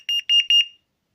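Close, loud shrill beeping from an Angel Eye carbon monoxide alarm being tested, a rapid series of short electronic pulses that stops abruptly, with no voices.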